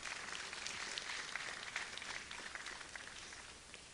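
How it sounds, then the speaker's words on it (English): Applause from a conference audience at a sustainable tourism event in Guyana, a steady dense wash of clapping that holds evenly throughout, fairly distant and without speech over it. "Yes, you can applaud."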